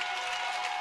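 Crowd at a 2012 Georgia high school boys lacrosse championship game cheering and applauding in a steady, dense roar that fills the short moment, heard from above the stands with no talk over it.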